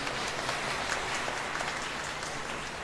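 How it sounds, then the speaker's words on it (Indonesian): A church audience at a Christmas celebration applauds in a steady, dense wash of clapping for about three seconds, moderately loud and with no talking over it. "Tepuk tangan dulu untuk Siska."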